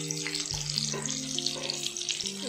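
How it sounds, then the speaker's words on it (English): Onion frying in hot oil with bay leaf, red chili and masalas for a Nepali dish, a steady close sizzle and crackle with faint scattered pops. "Let it fry for a moment until it gets a little bit brownish."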